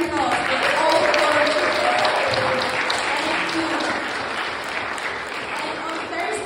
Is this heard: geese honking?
no